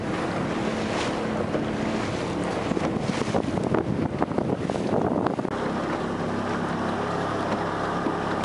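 Small boat with an outboard motor, likely a Suzuki or Yamaha, out on the water in Norway, heard as steady engine and wave wash buffeted by heavy wind noise on the microphone, with no talking.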